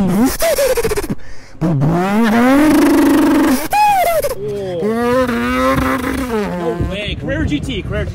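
A man vocally imitates a Mazda RX7's engine, making a string of close, loud revving bursts with rising and falling pitch sweeps and brief gaps between them.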